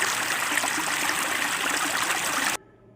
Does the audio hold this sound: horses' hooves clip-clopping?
no